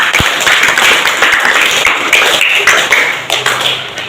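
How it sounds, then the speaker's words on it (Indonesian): A school class claps hands together in a classroom, a loud, dense burst of overlapping claps and taps that carries on steadily for about four seconds before thinning slightly. "Tepuk tangan dulu untuk Mbak Mici."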